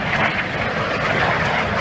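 A British jet trainer aircraft from the 1950s flies at an air show, giving a loud, steady engine roar that fills the short moment without pause.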